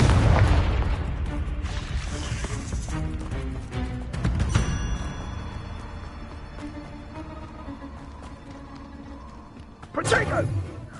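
A Confringo blasting curse explodes in Hogwarts Legacy combat, with several booming blasts at the start, middle and end, loud and close, mixed with game effects and a voice speaking over them.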